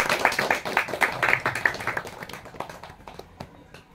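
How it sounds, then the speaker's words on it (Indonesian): Audience applause at an Indonesian campus book discussion, a smattering of claps at moderate distance that thins out and fades over a few seconds. "Tepuk tangan dulu."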